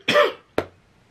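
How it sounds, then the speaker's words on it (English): Two dry coughs from one person with an itchy throat, close and clear: a longer harsh cough and then a short sharp one after a brief pause. "I apologize for the coughing and all this kind of stuff"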